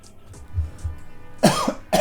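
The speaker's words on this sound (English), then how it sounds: "this cough that is never going away for some reason" A harsh cough bursts out at close range, a short double hack that follows a few soft, muffled throat sounds, with a further cough starting right at the end.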